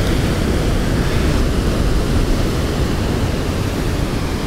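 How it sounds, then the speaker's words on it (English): Heavy ocean waves churn in below the cliffs at Flinders Blowhole, a loud, constant roar of surf mixed with wind noise, with no voices. "The sea is still absolutely churning in."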